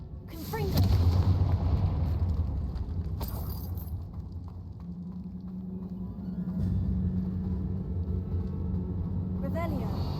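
A Confringo spell explosion in Hogwarts Legacy lands as a loud, deep boom followed by a lingering low rumble, with a voice speaking around it.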